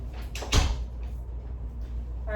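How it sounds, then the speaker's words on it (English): A door in a clinical exam room is pushed shut by a nurse, one close solid thud with a brief latch click, followed by quiet room tone. "let me close the door for privacy."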